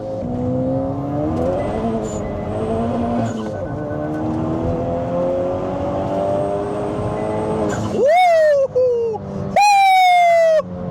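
A 310-horsepower Hyundai Veloster N engine drones under load on a dyno as the revs climb, then shrieks into sharp high-pitched revving bursts near the end, loud and close.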